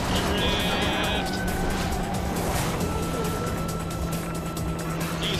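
An arcade racing car drifts around a bend in Sonic and All-Stars Racing Transformed, its engine droning steadily under a dense, constant wash of game music and effects, with no distinct skid standing out.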